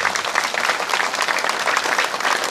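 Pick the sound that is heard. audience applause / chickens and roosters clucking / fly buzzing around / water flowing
audience applause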